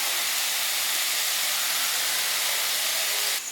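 Red spinach with turmeric and salt frying in a pan, giving a loud, steady, hissing sizzle that stays even throughout and cuts off at the very end.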